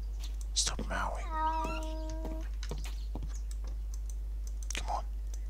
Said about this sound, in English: Stop meowing.